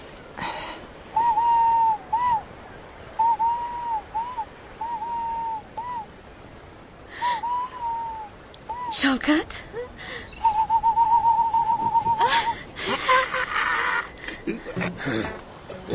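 Whistled, owl-like hooting bird calls rise and fall in short repeated phrases, then hold longer, with people talking over and between them.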